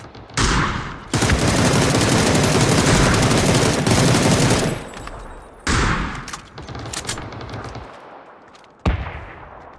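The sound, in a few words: rifle with 6x scope firing in video game PUBG PC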